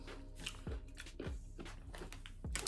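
Someone bites and chews a crunchy Scandinavian chip close up in quiet surroundings. Four sharp crunches come roughly half a second apart, with softer grinding between them.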